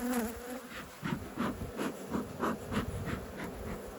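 Honeybees swarm around a beekeeper's head at an open hive during a hive inspection, a close, faint pulsing buzz of wings rising and falling in short waves.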